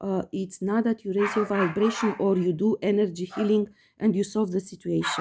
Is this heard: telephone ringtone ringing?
no